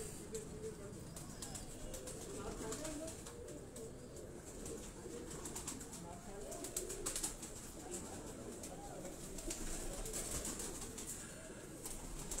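Flying pigeons kept on a rooftop in Johar Town, Lahore, coo faintly in a soft, continuous background murmur, with scattered clicks and distant noise.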